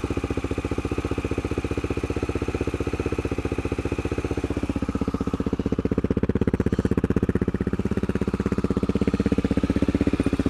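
A Honda XR650L single-cylinder motorcycle engine idles steadily nearby, a fast, even thumping pulse with a slight lift in pace partway through, no voices over it.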